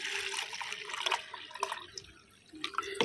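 Fermented aloe vera water, thick with mould, being strained at home, giving a steady close trickle and drip of liquid with small splashes throughout, alone without talk.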